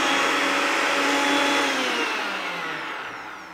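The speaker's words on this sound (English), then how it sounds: "We're just going to blend that up." A kitchen blender whirs loudly while blitzing a lemongrass herb paste for a chicken wrap, a steady high motor roar that gradually slows and drops in pitch toward the end, with no talking.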